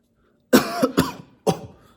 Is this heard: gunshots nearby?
no